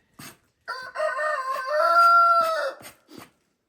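A rooster crows loudly and close by in one long drawn-out call, framed by a few short clucks before and after.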